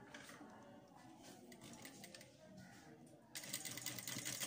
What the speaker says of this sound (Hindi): ये मैंने इसके नीचे फैब्रिक रख के अब इसको सिलाई लगाती हूँ